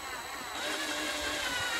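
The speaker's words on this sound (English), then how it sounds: "Dan's just going to drill through the mounting hole" A power drill bores a 6mm hole through a mounting hole in a simple tablet holder, giving a steady, close, continuous whirring grind that runs without pause.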